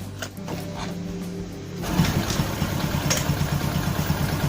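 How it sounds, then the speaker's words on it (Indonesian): A Honda motorcycle engine, a Megapro, Tiger or Karisma, with its cam chain tensioner under repair, starts partway through with a low chattering idle. The steady, close ticking rhythm takes over from quieter shop ambience. "Dan sekarang kita hidupkan dulu motornya."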